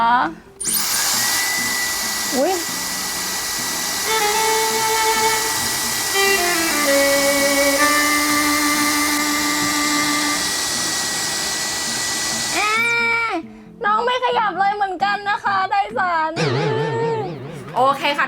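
A Dyson hair dryer blows with a loud, steady whine for about twelve seconds, its pitch shifting across speed settings. It cuts off, and a voice talks over the quieter stretch that follows.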